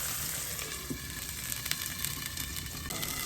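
Tomatoes sautéing in a pan give off a steady, close sizzle and crackle that runs unbroken for a few seconds with no voices.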